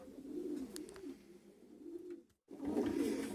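Racing pigeons give soft, low, rolling coos nearby as they are caught for a training flight, the cooing steady with a short break before it resumes.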